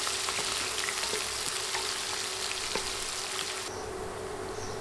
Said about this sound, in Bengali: নেড়ে 2-3 মিনিট পেঁয়াজ ভেজে নিব।